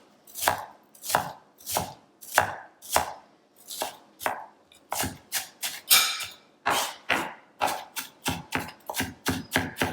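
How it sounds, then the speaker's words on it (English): Knife chopping through a red onion on a board, thin slices cut in a steady run of about twenty close, crisp strokes with no talk. "Now you want to cut your red onion thin"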